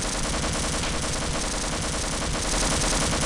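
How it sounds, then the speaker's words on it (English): A turret machine gun in the Half-Life video game fires a dense, unbroken burst of rapid shots. The noise is loud and fills the whole scene, with no speech over it. "it must be a turret or something"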